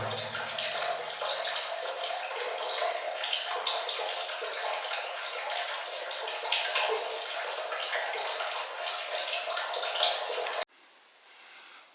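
Water trickling slowly over a stone weir in the ruins of an abandoned village, a steady broadband wash of flowing water lasting about ten seconds before dropping to a quieter, thinner trickle.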